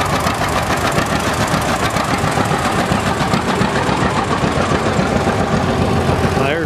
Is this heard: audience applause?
no